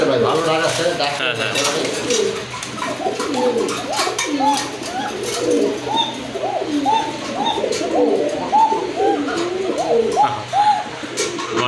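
A pair of pigeons at a pigeon sale coo repeatedly close by, a soft throaty rolling call that keeps cycling, while people talk quietly in the background.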